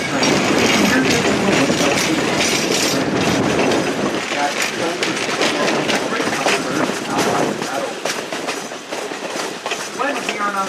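A Missionary Ridge Local passenger train rolls along its tracks with a loud, continuous rumble and steady clickety-clack of the wheels. The sound is heard from on board and stays close and constant throughout.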